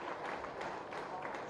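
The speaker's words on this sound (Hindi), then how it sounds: "आप सब जोरदार तालियों से स्वागत भी करें" Audience applause welcoming a chief minister at a political farmers' event, a dense steady wash of clapping filling the whole moment with crowd noise beneath.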